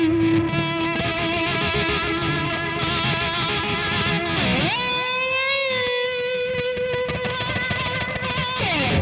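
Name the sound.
sustained distorted electric guitar note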